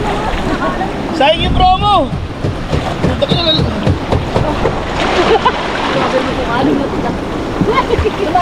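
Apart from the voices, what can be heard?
sea waves splashing against a boat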